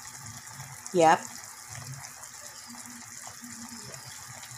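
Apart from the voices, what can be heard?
pouring two cups of water into adobo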